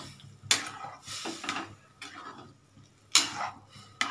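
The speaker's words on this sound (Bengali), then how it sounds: "নাড়াচাড়া করি।" A spoon stirs thick chickpea dal in a pot, giving a few close scraping strokes and sharp metallic knocks against the pot, separated by short pauses.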